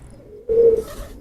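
A pigeon gives one short, close, throaty coo out of a quiet background.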